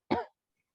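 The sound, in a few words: coughing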